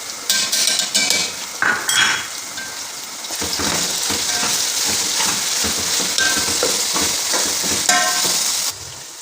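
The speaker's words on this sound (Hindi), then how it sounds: "इसके साथ अब मैं अच्छे तरीके से भुनाई कर लूँगी" Chicken browning with tomato paste in a pan, spatula scraping and clinking against metal over a steady sizzle, busy and close throughout with no talking.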